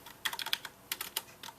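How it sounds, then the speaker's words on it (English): Fingers tap on a computer keyboard in two short bursts of quick, clicky keystrokes separated by a brief pause, close and clear with no voices. "typing in Noob clone isn't going to do well"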